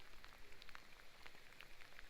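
Rain falling on a mountain road in Kashmir, a soft steady patter of scattered drops heard close by, faint overall with no voices.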